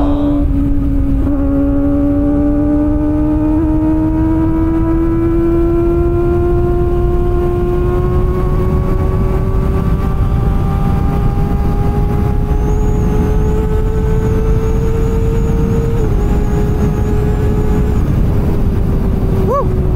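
Kawasaki Ninja ZX-25R motorcycle engine pulling hard, its note climbing steadily through a long gear, with a short dip at a shift near the end; loud and close, with wind rush beneath it.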